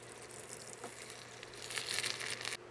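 Garlic, ginger and bay leaf simmer in neutral vegetable oil over low heat, giving a faint, steady sizzle with soft crackles that swell slightly toward the end, with no talking.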